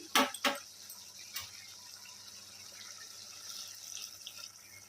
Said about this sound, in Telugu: ఇలా వేగిన తర్వాత కొద్దిగా వాటర్ వేసుకుందాం